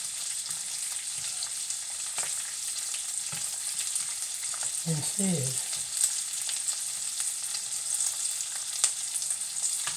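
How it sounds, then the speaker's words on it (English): A burger patty fries in a frying pan on a stovetop, giving a steady, close hiss of sizzling grease that runs throughout, with a few faint clinks of a utensil partway through. "I chose to do it on the stove in the frying pan."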